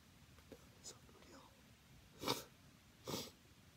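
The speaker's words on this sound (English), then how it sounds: "I'm sniffling because I'm sick" Someone with a cold sniffles in a quiet room: two distinct nasal sniffs, brief and close, following a few softer breathy sounds.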